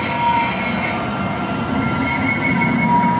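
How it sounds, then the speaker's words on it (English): A Darksaber Legacy Lightsaber toy plays its ignition effect as a steady electronic hum with high metallic, squealing tones held for about three seconds at a constant, fairly loud level. "One more time just to show you guys so you can hear the ignition one more time."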